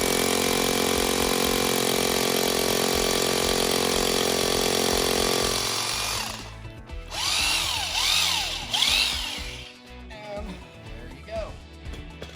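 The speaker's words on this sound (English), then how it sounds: "Now you need the hammer drill" Hammer drill boring an anchor-bolt hole for a storage rack, a loud steady continuous grind for about six seconds, then stopping, with softer tool noise and clatter afterward.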